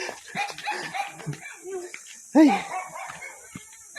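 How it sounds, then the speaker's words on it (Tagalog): A puppy gives a sharp bark or yip near the middle, close by, over ongoing talk and background noise at an outdoor tilapia farm with geese. "Tapang ng tuta."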